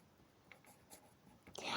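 Soft, quiet scratching of a felt-tip pen on paper in a few short strokes, ending with a louder, longer squeaky stroke.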